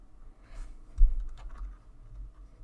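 Typing on a computer keyboard into a word-processing document, with a short quiet run of key clicks and one slightly louder tap near the middle.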